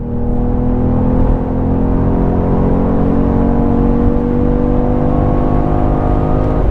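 A BMW X3 M F87 Competition pulls at full throttle in fifth gear from about 80 km/h on the Autobahn, a loud steady engine drone with rising whine heard from inside the cabin.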